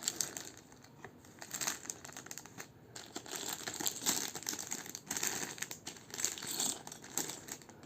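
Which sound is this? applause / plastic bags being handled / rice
plastic bags being handled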